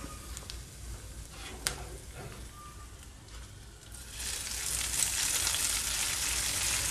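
Hot tempering poured into a Kerala tomato curry sets off a loud, steady sizzle from about the fourth second that keeps going to the end, following a quieter stretch with a sharp clink.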